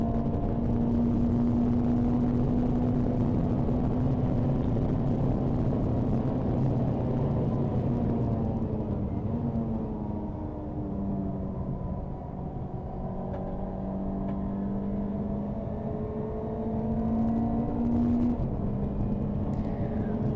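A touring race car in a CSCC Tin Tops race at Silverstone drones loudly from onboard, its engine holding a sustained rumbling tone that rises and falls through gear changes along the straight.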